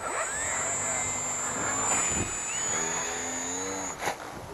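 A HobbyKing Reaktor model plane's motor runs with a steady, high-pitched whine alongside a rougher drone that shifts slightly in pitch, fairly close and continuous until a brief dip near the end.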